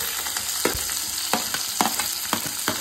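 Onions sizzle in hot oil in a pan for a cauliflower masala curry, a steady crackling fry with soft stirring clinks and scrapes recurring every half second or so, close and without talk.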